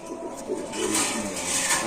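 Pigeons cooing at a pigeon market, soft continuous low coos under a noisy crowded background, fairly close and steady throughout.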